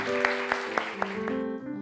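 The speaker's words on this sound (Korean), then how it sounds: "우리 환영의 박수로 맞이하도록 하겠습니다" A church congregation at a Sunday service claps in a steady, even rhythm of about four beats per second over sustained musical tones, welcoming a guest singer.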